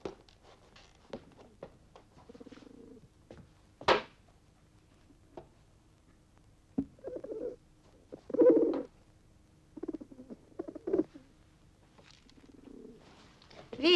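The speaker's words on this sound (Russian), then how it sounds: "Вить, а Вить, можно голубя погладить" A pigeon coos in short, soft throaty bursts scattered through the stretch, close by, among light clicks, rustles and one sharp knock, with no talk.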